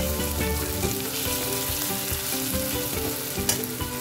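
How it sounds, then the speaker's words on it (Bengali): Garlic fries in hot oil ahead of adding tyangra fish, a dense, continuous sizzle with faint scraping stirs and one sharp crackle near the end, close and loud with no talking. "রসুনের কাঁচা গন্ধটা চলে গেলে আমি মাছগুলোকে আস্তে আস্তে এখানে দিয়ে দেবো।"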